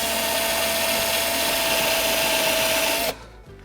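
A drill countersinks a screw hole in a wooden child's chair frame, a steady high whine at close range that stops abruptly near the end.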